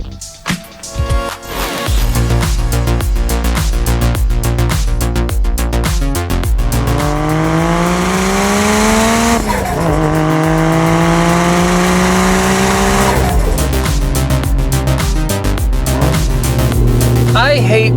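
A manual-swapped Toyota Chaser JZX100 accelerates hard on a canyon road, its engine loudly climbing through the revs with gear changes, sustained and close, under the cabin's road noise.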